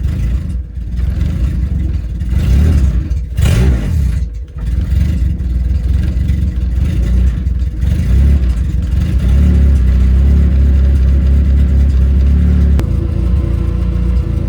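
Honda Civic EG engine idling a little low, a steady, loud, low rumble with slight clatter and a few brief blips early on, heard close with no talking.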